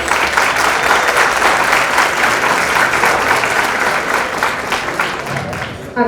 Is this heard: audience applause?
yes